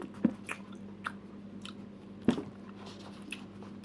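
Seeded bread being chewed close up, with a couple of sharper crunchy bites standing out among softer, quieter mouth sounds and moist chewing, no talking.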